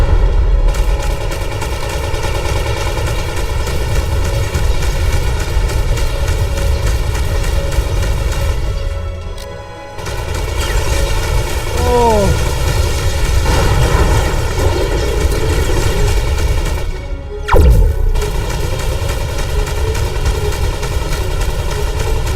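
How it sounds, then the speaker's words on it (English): Laser fire rattles through a space battle in the game Between the Stars, dense rapid bursts over a constant engine hum, with brief pauses and a sharp descending zap near the end. "There's a lot of lasers."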